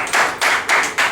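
Audience applause at a Radha Swami organization meeting at a district office in Gorakhpur, four short loud bursts of clapping in quick succession, close and alone without talk.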